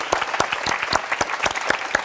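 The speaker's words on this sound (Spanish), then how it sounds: "¡Un aplauso!" Audience applause after a student presentation on space exploration, a short burst of loud, close, evenly spaced claps with no talking.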